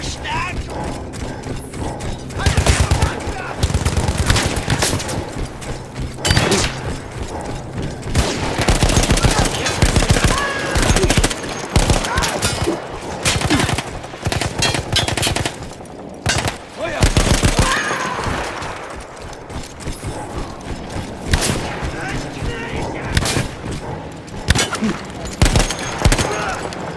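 Mounted machine gun in Battlefield 1 fires in repeated bursts amid dense battlefield noise, with voices and other gunfire mixed in throughout.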